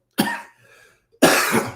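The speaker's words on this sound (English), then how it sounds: "I don't want to cough on y'all." A person coughing from a tickle in the throat, two sharp, close coughs about a second apart with a faint throaty rasp in between.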